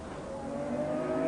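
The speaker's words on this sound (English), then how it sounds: "A lap of Silverstone in the Jaguar XJR-9 sports prototype" A Jaguar XJR-9 sports prototype race car on a lap of Silverstone in foul, wet conditions, its engine a steady, rising drone heard briefly from on board with no talk.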